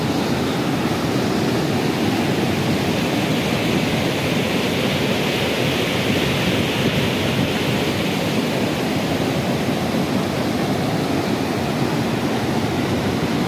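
Broad, steady roar of the Godavari river in flood at Kopargaon in Nashik district during heavy rain, water rushing loudly and continuously throughout with no voices.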